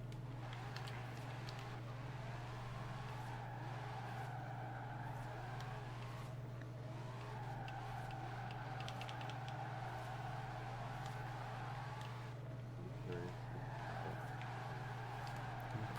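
A nine-gear drift car in the Forza racing game slides sideways with a steady, loud engine drone, and tire squeal rises and falls continuously throughout.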